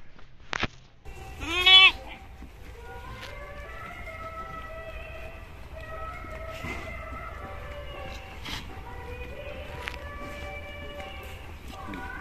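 Lambs bleating while being bottle-fed milk in a village: a brief loud bleat near the start, then thinner, wavering calls over a steady background hum with faint tonal music, some voices murmuring.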